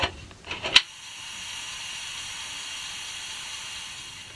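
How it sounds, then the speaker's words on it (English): A pressure cooker hisses while cooking aboard a sailing boat. A few soft knocks come first, then a steady, even hiss of venting steam carries on alone at moderate loudness. "I'm going to pressure cook this for 20 minutes."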